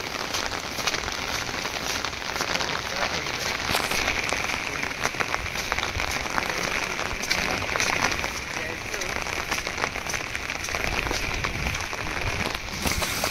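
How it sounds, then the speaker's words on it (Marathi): Steady, dense downpour of heavy rain hissing across surfaces in a jungle, continuous and loud throughout with scattered drips and spatters. "जोरदार पाऊस पडतोय मित्रांनो"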